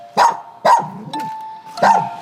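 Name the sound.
dogs barking at an illegal-breeding dog cafe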